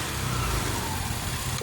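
Automatic motor scooter fitted with a bearing seater, its engine running close by with a steady, slightly rising drone as the throttle is blipped; short and without talk.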